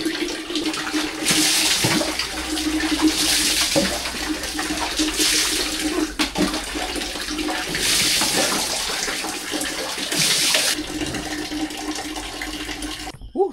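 Cold water runs loudly and close by in a small bathroom, a continuous splashing gush that swells and eases in long waves, with a brief clatter near the end and no talk.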